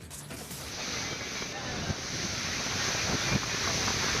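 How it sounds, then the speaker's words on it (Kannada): Massive water pours out through a broken crest gate of the Tungabhadra dam as a continuous, loud, broadband roar with wind buffeting the microphone, steady throughout without pauses. "ಆ ಗೇಟ್ ಚೈನ್ ತುಂಡಾಗಿ ನೀರಿನಲ್ಲಿ ಕೊಚ್ಕೊಂಡು ಹೋಗಿ ಅಪಾರ ಪ್ರಮಾಣದ ನೀರು ಹೊರ ಹೋಗ್ತಾ ಇದೆ."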